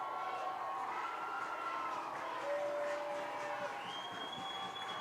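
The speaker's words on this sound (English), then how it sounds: "The crowd's getting into it. This may be the loudest I've heard the crowd this year." A high school football crowd roars in a steady, distant wash throughout, with whistle-like tones and a brief horn blast rising over the noise.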